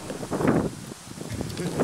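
Wind buffets the microphone in a steady, low rumbling roar that swells and eases, with no clear voices.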